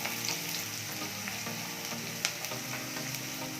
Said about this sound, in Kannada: ಎಣ್ಣೆ ಕಾದ್ಮೇಲೆ ಸಣ್ಣಕ್ಕೆ ಹೆಚ್ಚಿಕೊಂಡಂತಹ ಈರುಳ್ಳಿನ ಹಾಕೋಬೇಕು.